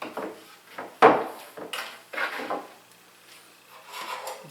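A pencil or marker drawn across wood while marking a bevel or miter cut line, giving several short, close scratchy rubbing strokes separated by brief pauses, with one louder stroke early on.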